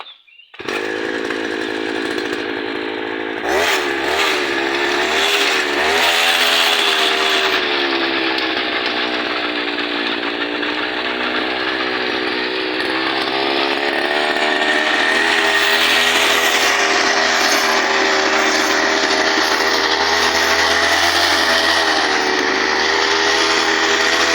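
A homemade motor cultivator's small engine is pulled to a start, sputters and revs in the first seconds, then runs with a loud, buzzing, chainsaw-like drone that holds steady close by.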